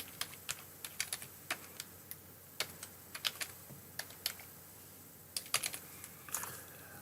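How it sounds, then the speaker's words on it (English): Keys clatter on a computer keyboard in short irregular bursts of taps, typing in a web search box; the clicks are close and fairly quiet, with brief pauses between runs and no talking. "just type in lottery number generator"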